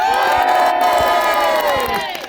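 A crowd at a jousting land battle in Loxwood cheers and whoops loudly, high voices rising and falling together for about two seconds before tapering off.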